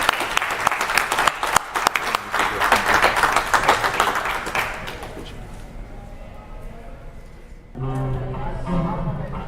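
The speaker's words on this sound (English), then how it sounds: "please give Joe a big hand of applause because of him that we are what we are here." Audience applause at a Cayman Airways 40th anniversary event in Tampa, a burst of clapping that fades out midway, followed by speech and other sounds.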